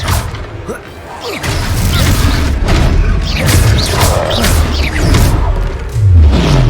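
Loud, booming fire-spell explosions and crashing impacts from a Confringo spell burst during combat in the Hogwarts Legacy video game, with whooshing swells and heavy thuds across the scene.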